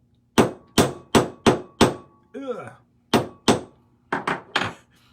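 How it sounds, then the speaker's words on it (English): Sharp metallic hammer strikes flattening silver solder wire, about eleven blows in uneven bursts, close and loud, with a brief scraping rattle in between. "hammer that into a little flat edge so I can cut a little chip off there"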